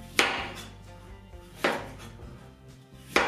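A knife chops carrots on a cutting board: three sharp, fairly loud thuds spaced about a second and a half apart, with quiet kitchen room tone between them.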